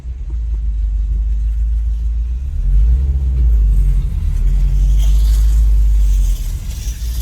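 A Subaru WRX STI sits in a parking garage, its engine giving a loud, steady deep rumble that swells slightly midway, close to the listener with no talking.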